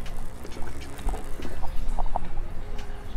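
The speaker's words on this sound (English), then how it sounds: "You can hear the sucking in right there." Air sucking into a sealed homemade water filtration container for off-grid use, heard as soft intermittent gurgles and hisses, fairly close and moderately quiet.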